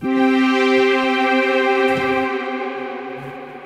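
A sustained tone rings out with a long, spacious tail of reverberation from the 112dB Redline Reverb software plugin that slowly fades, like sound echoing in a large hall.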